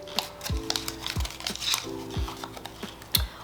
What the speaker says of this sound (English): It's really important that you shuffle when you're pulling out of a dish.